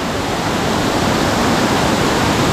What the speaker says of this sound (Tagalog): Ang lakas ng flowing ng kanyang tubig galing sa gitna ng bundok.